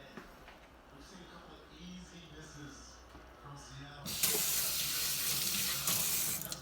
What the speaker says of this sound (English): Run over there to the sink, wash my hands real quick.